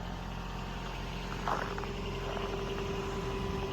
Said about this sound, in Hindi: अब जब तक गाड़ी गर्म होती है